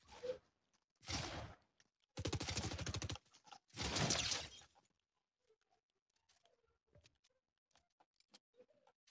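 Fortnite gunfire erupts in several loud, harsh bursts of rapid shots over the first few seconds, then gives way to faint scattered ticks and small clicks of in-game activity.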